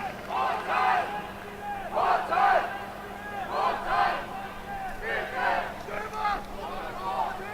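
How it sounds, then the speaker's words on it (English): Fans in the stands at a Formula Student autocross event cheering in repeated bursts of shouts, moderately distant, rising and falling across several waves. "We can hear the fans in the stands cheering for their team"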